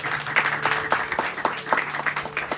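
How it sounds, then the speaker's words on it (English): A crowd at a satsang gatherings gives a round of applause for the children, dense clapping that is steady and fairly close throughout, with no voices over it. "Give all these children a round of applause."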